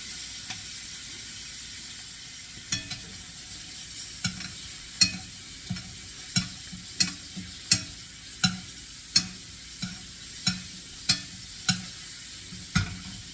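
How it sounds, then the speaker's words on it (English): Strip steak sizzling in a pan with melted butter as a spoon bastes it, a constant crackling hiss broken by regular metallic clinks of the spoon against the pan, close and clear. "I'm going to use a spoon to baste the steak with the melted butter"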